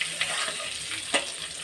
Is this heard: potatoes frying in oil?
yes